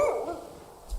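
A dog barks once, near and fairly loud, in the hunting video game Way of the Hunter 2, with a short yip trailing off after it.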